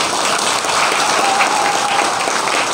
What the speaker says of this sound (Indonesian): Berikan aplaus kepada beliau.